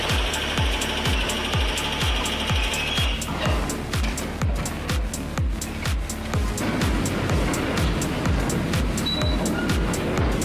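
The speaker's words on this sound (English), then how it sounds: "the Kibag demolition machine at Ramestras crushes steel rails with ease" Kibag demolition machine crushing steel rails on a construction site, a loud, fast, regular mechanical pounding with metallic clanks and a steady engine drone throughout.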